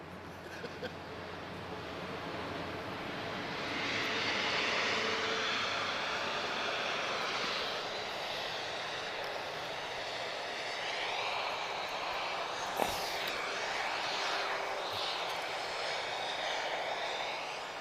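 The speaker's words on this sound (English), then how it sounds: "this one is TK1759 and this is an A321 from Istanbul" An Airbus A321 airliner, a Turkish flight from Istanbul, roars at Lisbon Airport, a loud broad jet engine noise swelling and holding for many seconds, heard from a distance outdoors with a brief sharp click partway through.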